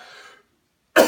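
After a soft trailing voice and a pause of silence, one short, forceful cough after smoking tobacco erupts close by at the very end.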